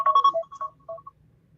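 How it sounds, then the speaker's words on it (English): A phone alarm rings in a few quick electronic tone bursts, near and clear, then trails off into quieter ringing notes over a quiet room. "that was my alarm"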